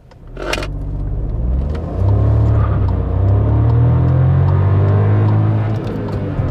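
A Seat Ibiza 1.0 EcoTSI engine revs hard while accelerating in third gear, its loud, steady drone climbing in pitch and holding near the top of the rev range without a break.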